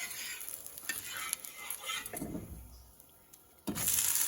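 Dosa batter frying on a hot pan, a soft close sizzle with scattered scrapes and knocks from a spatula, quiet overall with a louder hiss near the end, no voices.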